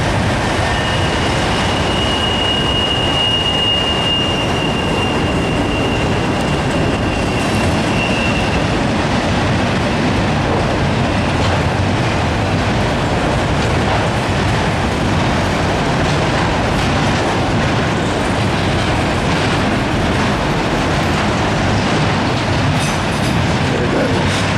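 A long CSX Q580 freight train of empty auto rack cars, led by ES44 and AC44 locomotives, rumbles steadily past close by with constant wheel noise and a brief high squeal early on, with no talking.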